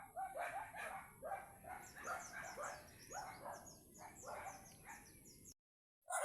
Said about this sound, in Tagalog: At medyo nag-iingay itong mga alaga na ito ni Uncle Pido. Daming aso.